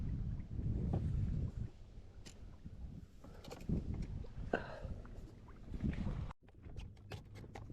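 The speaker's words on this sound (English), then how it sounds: "wind's starting to pick up a little bit too." Wind gusting across open water on a fall bass fishing trip, a low rumbling buffet against the microphone with intermittent knocks and splashes from the boat, with no talking.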